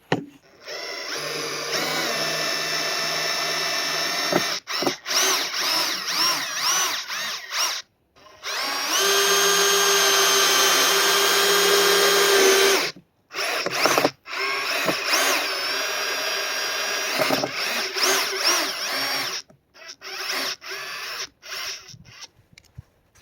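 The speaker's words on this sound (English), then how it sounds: "So let's use some drills just to see if we can pull that out and how to drive it in" Power drill bursts from a SeeSii WH700 3-in-1 impact wrench in drill mode, backing out and then driving in a screw: several loud, sustained whirring runs separated by short pauses, with clicks between.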